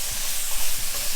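Blackened Cajun shrimp sizzling in a hot pan, a steady broadband hiss and crackle running continuously and fairly loud throughout the short moment, with no talking.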